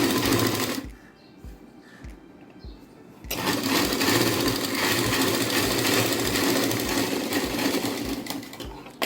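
Sewing machine stitching a blouse, its rapid mechanical needle chatter running steady and close after a brief quieter pause near the start.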